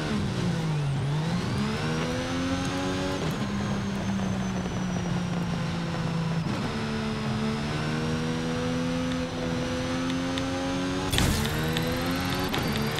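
A 1300-horsepower Mercedes-AMG One hypercar in Forza Horizon 5 accelerates hard, its engine note climbing and dipping through gear changes in a loud, steady whine, with a sharp transient near the end.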